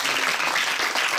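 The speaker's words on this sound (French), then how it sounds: "Vous pouvez applaudir, ça me fait une pause." Audience applause at an outdoor music festival in the sun, a brief, steady burst of dense clapping throughout, fairly close and filling the whole moment with no voices over it.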